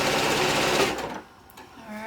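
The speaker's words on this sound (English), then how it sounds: "and continue sewing." Sewing machine stitching quilt blocks, a rapid close mechanical whir for about a second that then stops, followed by quiet handling noises.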